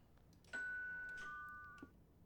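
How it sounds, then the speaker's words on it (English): A single electronic doorbell chime in the video game The Bookwalker: Thief of Tales rings out clearly, a sustained two-tone ding that fades over about a second and a half, with no talking. "that's my doorbell"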